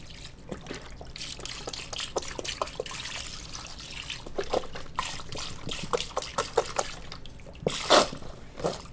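Chicken broth pours into a crock pot in a continuous close trickle and splash, steady and moderately quiet, with a few small clunks near the end.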